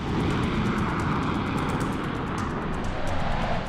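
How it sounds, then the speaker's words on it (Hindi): An Indian Air Force Tejas supersonic multirole fighter jet roars with a loud, steady, broadband engine rush that holds for several seconds with no talk. "तेजस भारतीय वायुसेना का most advance supersonic fighter jet है।"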